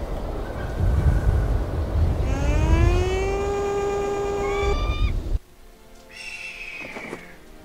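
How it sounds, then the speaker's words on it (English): A fog horn in the video game Syberia sounds a loud, steady droning blast that climbs in pitch, cuts off abruptly, then gives a shorter second blast over quieter background ambience. "The eagle responds to a fog horn."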